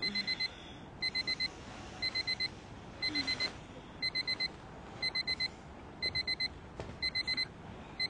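An alarm clock beeps in quick bursts of about four high electronic tones, repeating roughly once a second at a steady, fairly quiet level with no talking.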